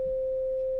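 A major sixth of nine semitones sounded as a pure steady sine-like tone, clean and constant for under a second, alone with no talk.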